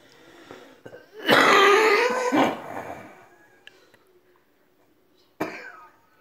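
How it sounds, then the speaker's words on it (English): A person has a coughing fit: a loud burst of harsh, repeated coughs, then quieter throat sounds and one more sharp cough near the end, close to the microphone. "you actually can't stop coughing"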